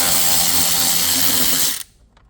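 A power tool whirs steadily at close range while undoing the airbox lid bolt on a Toyota Kluger U40 with the 3.5L petrol engine, then stops abruptly and leaves a quiet room behind.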